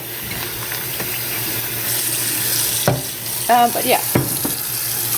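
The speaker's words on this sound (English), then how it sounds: "I'm running some water" Tap water runs into a kitchen sink holding a hamburger being defrosted, a steady hissing wash with a few clunks and splashes, and a person briefly speaks over it.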